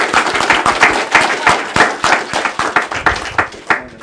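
Audience at a commercial panel clapping for the panelists: a steady run of sharp, crisp hand claps, fairly close and loud, keeping an uneven rhythm for about four seconds with no voices over it.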